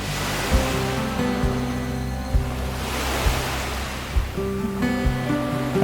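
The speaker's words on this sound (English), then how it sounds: "And occasionally, an incoming wave crashes in to create a perfect balance." South Pacific surf crashing on a New Zealand shore near geothermal pools, loud continuous roaring wash with periodic thumps as waves break close by.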